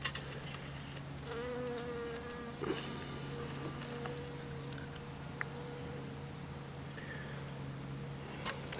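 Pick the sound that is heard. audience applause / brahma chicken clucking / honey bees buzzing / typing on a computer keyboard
honey bees buzzing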